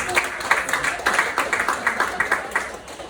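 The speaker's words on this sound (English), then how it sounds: "Round of applause if you voted for Obama back today." Audience at a comedy show claps in a brief, steady burst of applause, moderately loud, with no talking over it.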